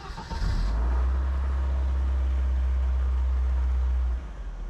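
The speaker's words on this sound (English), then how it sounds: "Let's pull on the choke now that I have the cable, unlike before, and let's get the car started." A Lada Niva 2121 with its choke pulled cranks and fires up, then settles into a loud, steady idle for about three and a half seconds before the engine note drops away.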